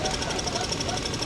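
A fishing boat's engine runs in its engine room at a harbour in Vizag, a loud, rapid, steady knocking throb heard up close.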